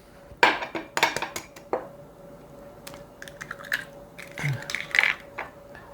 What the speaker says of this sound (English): I've got 3 eggs added to that.